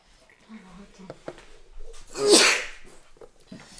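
A single loud sneeze bursts out after some quiet murmuring, close and sharp, then fades into soft talking.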